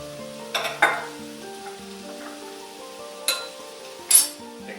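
Chili ingredients fry and are stirred in a pot, a close, continuous sizzle broken by a few sharp metallic clinks and scrapes from the stirring utensil.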